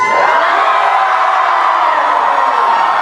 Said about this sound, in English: The crowd roars.